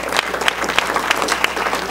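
Audience applause at a poetry reading event at The New School, a dense, steady wash of many hands clapping close by, sustained evenly through the whole stretch.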